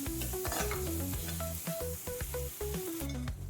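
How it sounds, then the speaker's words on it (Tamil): Semolina roasting in melted ghee in a pan, giving a soft continuous sizzle with light stirring scrapes, heard close under a steady melodic music track. "நெய் உருகிடுச்சு அரை கப் அளவுக்கு ரவை சேர்த்துக்கிறதுல அதை வந்து வறுத்துக்குவோம்"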